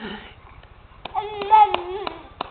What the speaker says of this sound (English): Clap, clap, clap. Yay! You did it.